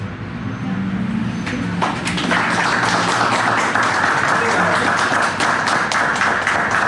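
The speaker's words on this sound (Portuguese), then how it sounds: "Gratidão pelas palmas também." Dense audience applause at a lecture builds within the first couple of seconds, then continues as a steady, loud wash of many clapping hands.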